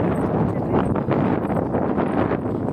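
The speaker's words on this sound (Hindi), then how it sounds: "हवा चल रहा है" Wind blows outdoors near farm fields under a heavily clouded sky, a steady, fairly loud rush buffeting the microphone throughout.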